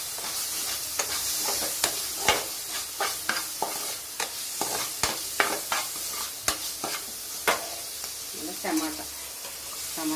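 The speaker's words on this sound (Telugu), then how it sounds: "గరం మసాలా, జీరా పౌడర్, మిరియాల పౌడర్, సాల్ట్, వేసుకొని కలుపుకోవాలి" Spiced mutton keema with red chilli, garam masala, cumin powder, pepper powder and salt is stirred in a pan: repeated sharp spatula scrapes and taps over a quiet, low sizzle.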